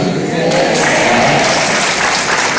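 Church congregation clapping together during a mass, a dense burst of applause filling the hall, loud and sustained for a couple of seconds.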